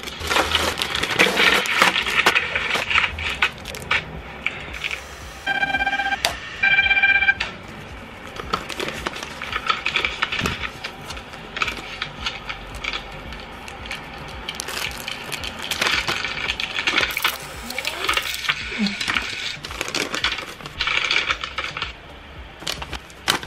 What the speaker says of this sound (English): That's the printer making the sounds